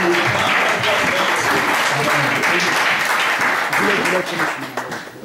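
A church congregation breaks into steady, loud applause that fills the room for several seconds before tapering off, with voices mixed in.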